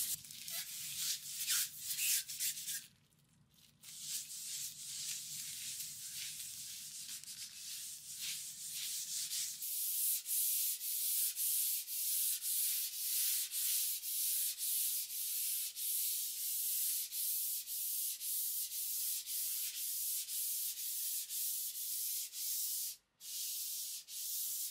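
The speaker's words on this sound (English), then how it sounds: "Once my first coat was dry, I gave it a very light sanding and prepped it for the second coat." Steady hand sanding of a painted thrift-store tallboy dresser between paint coats, a continuous close scratchy rubbing with rhythmic back-and-forth strokes, a brief pause near the start, no voices.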